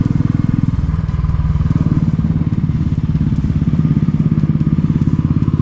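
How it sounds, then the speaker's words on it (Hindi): A motorbike rides along a newly built mountain road near Chamba on a rainy solo trip, its engine a steady, close, rhythmic throbbing drone that runs continuously without pauses. "भाई सच में मज़ा आ रहा है ऐसी बढ़िया रोड पर बाइक चलाने में।"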